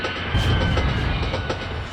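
A train brakes hard with a loud, close grinding rumble of rail wagons, a clattering, shuddering mass of metal noise across the clip.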